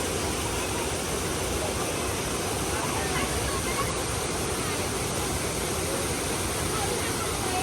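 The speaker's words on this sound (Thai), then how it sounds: "ที่นี่น้ำตกเก้าโจรหรือน้ำตกเก้าชั้นนะคะ" The first tier of the Kao Chon nine-tier waterfall in Ratchaburi gives off a constant, broad roar of rushing water, steady and unbroken from start to finish, with a voice faintly present.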